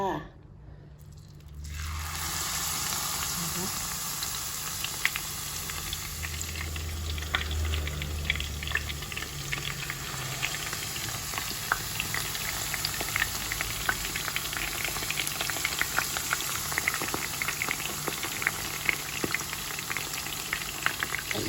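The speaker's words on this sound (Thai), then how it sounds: "แล้วก็ลงไปทอดเลยจ้า" Battered edible wild flowers and wild vegetables deep-fry in hot oil, a dense continuous bubbling sizzle with frequent crackles that starts abruptly after a quiet moment and holds steady close up.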